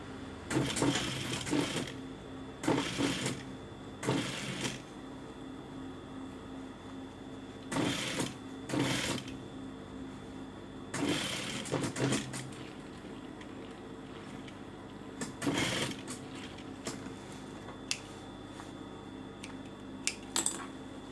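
Sewing machine stitching a seam in fabric, running in several short bursts of rapid mechanical clatter separated by pauses, close and moderately loud against a quiet room.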